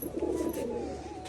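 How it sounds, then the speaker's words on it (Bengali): Rajshahi pigeons coo softly and repeatedly while drinking water, a close, continuous murmur of low calls with no voices. "সমস্ত পায়রা এখানে এসে জল খাওয়া শুরু করে দিয়েছে"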